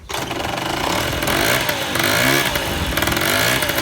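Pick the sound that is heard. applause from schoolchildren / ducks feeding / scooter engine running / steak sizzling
scooter engine running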